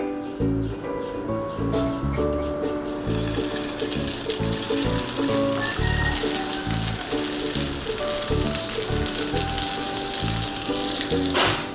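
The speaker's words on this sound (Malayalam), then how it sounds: "എണ്ണ ചൂടായി, നമുക്ക് മോമോസ് വെക്കാം." Momos fry in hot oil with a steady, loud, crackling sizzle that lasts throughout, bright and close, with faint tonal sounds in the background.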